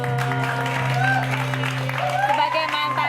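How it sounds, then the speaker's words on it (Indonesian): A studio audience applauds for Bagus Saputra on an Indonesian TV talk show, moderate clapping blended under a sustained musical tone and chatter, fairly close and continuous. "Tepuk tangan dulu dong buat Bagus."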